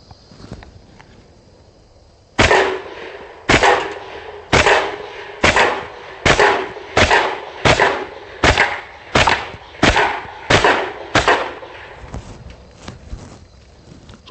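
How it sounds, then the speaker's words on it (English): A rifle loaded with tracer ammunition fires a rapid string of about eleven sharp, loud shots at a beer keg, evenly spaced with a short echoing tail after each. "filled the gun up with tracer ammunition, and I'm hoping that as we shoot the keg, maybe we'll get to see some of those ricochets"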